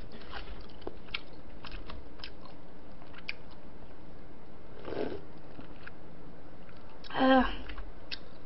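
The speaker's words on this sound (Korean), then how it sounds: "갑자기 쩝쩝 거리는 소리가 너무 크다고 하니까 못 먹겠다." Someone eating cold jjamppong, plum sweet-and-sour pork and fried rice, with faint, sporadic chewing and smacking sounds over a quiet background and a louder crunchy bite near the end.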